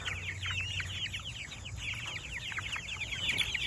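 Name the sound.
Cornish cross chickens clucking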